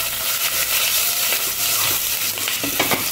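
Cumin, a bay leaf and grated ginger fry in hot ghee with a loud, continuous sizzle and crackle, close up, with occasional scrapes and stirring noises and no talking.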